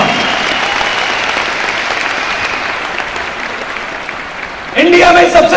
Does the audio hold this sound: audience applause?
yes